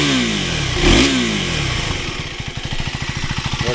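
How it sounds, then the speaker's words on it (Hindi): A 2026 KTM Duke 390 single-cylinder motorcycle starting up: a brief starter whine and catch, then the engine settles into a steady, rapid thumping idle, close and fairly loud. "इंजन किल स्विच को यूँ करेंगे और ये छोड़ देंगे, ऑटोमेटिक स्टार्ट हो जाएगी"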